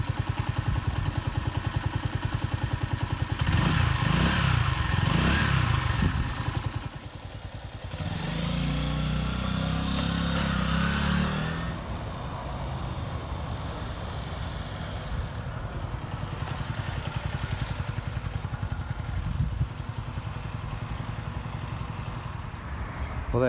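A budget £500 adventure motorcycle is ridden, its engine loud and close, revving and changing pitch with clattering mechanical noise, easing to a steady running drone with wind rush.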